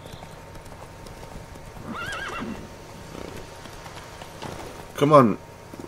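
Horse hooves clip-clop through a Witcher 3 video game scene, a steady trotting rhythm under brief speech, with a louder whinny near the end.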